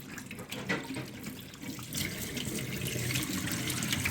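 Water gushes steadily out of a coolant tank on a Mk1 Audi TT 225, a continuous close splashing flow that grows slightly louder midway and carries on without any talk.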